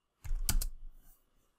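A few quick computer keyboard keystrokes typing a command, close and crisp, in a brief burst of clicks with no talking.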